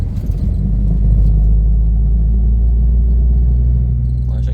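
A Jeep Grand Cherokee with the 4.0-litre engine and AX15 manual gearbox accelerates gently in fourth gear, a loud, steady, low rumble from inside the cabin with no talk.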